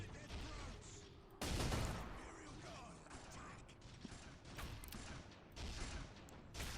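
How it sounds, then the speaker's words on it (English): Rapid gunfire from a bolter pistol in a Warhammer-themed Men of War: Assault Squad battle, with a loud burst of shots and clattering mechanical noise running throughout the scene. "Oh, that's a pistol. That's a bolter pistol."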